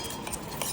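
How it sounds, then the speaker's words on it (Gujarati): A spoon stirring farali bhel topped with curd in a bowl, soft continuous scraping and light clinks, close and quiet. "મસ્ત મિક્સ કરી દેવાનું"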